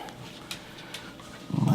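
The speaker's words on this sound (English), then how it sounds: "This is my daughter's dog." A dog giving a few short soft whimpers and snuffles close by, followed by a louder low rumble at the end.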